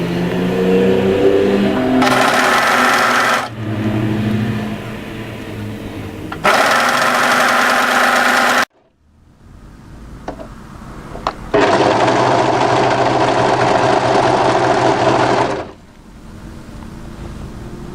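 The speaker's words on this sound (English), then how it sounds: "And then just overlock to the other edge and off." An overlocker serger stitches the edge of fabric for a waterfall drape coatigan, running in two short bursts, then a long steady whir after a quiet pause; loud, close and mechanical, with no talking.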